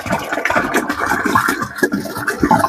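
Bore water poured under pressure into a fish tank holding a snakehead, a loud close continuous splashing and gushing rush with no voices.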